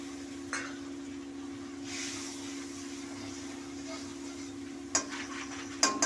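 Water-thinned mustard paste hits hot mustard oil for a rohu fish curry, giving short sizzling bursts and stirring scrapes over a constant kitchen hum, with brief louder spits toward the end.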